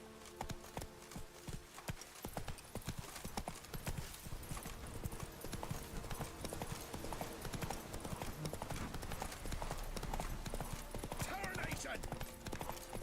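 Horse hooves clip-clopping at a trot in The Witcher III video game, a steady rhythmic patter under continuous game sound and voices, fairly faint throughout.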